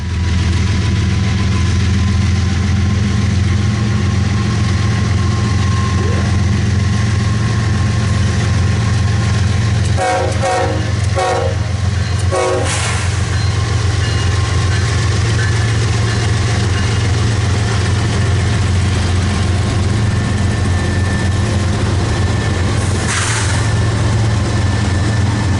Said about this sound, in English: This pair of GEs were working really hard to pull 400 out of field.